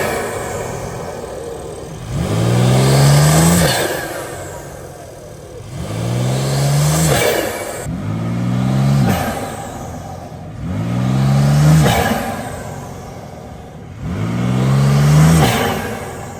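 BMW G80 M3 revved with no exhaust fitted, five loud, evenly spaced blips rising and dropping away close by, each ending in a brief lull at idle.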